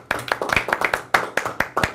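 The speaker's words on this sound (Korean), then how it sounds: "박수 한번 더 하죠." A seminar audience at a church leadership gathering claps in a brisk, regular rhythm, about a dozen sharp unified claps in quick succession, moderately close.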